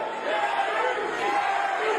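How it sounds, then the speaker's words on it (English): Crowd noise at a boxing title fight between Magsayo and Russell, a steady, dense roar of many voices filling the arena throughout, with a faint rhythmic chanting quality rising and falling under the din. "And the crowd chanting"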